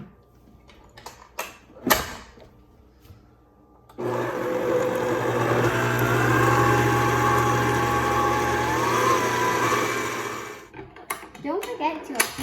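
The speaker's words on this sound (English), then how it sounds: "I'm now going to mix that in my blender until it is all combined." A blender motor whirs loudly and steadily for several seconds mixing sugar and butter, with brief clatter and talking before it starts and after it stops.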